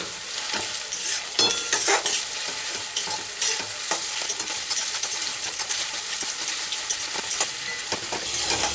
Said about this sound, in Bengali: এর সাথে আরও 1 মিনিট মিডিয়াম ফ্লেমে আমি একটু ভেজে নেব।